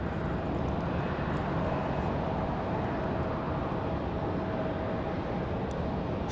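An Aeromexico jet airliner at Raleigh-Durham International at night gives off a steady, loud broadband roar with a faint engine whine, constant and unbroken throughout, with no voices present.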